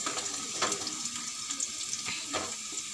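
Onions sizzling and softening in a pan for a kada-style parotta salna, a faint steady crackle with soft scraping and stirring, no voices.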